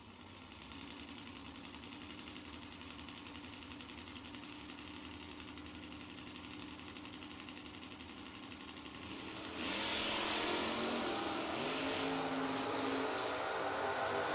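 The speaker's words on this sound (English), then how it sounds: "He gets the win light over McCandless, and the Valari wagon will get parked." Drag racing cars, a 1968 Camaro and a Volare station wagon, at a door slammer drag strip: a steady engine drone that suddenly swells into a loud, broadband roar as the cars launch, with no talk.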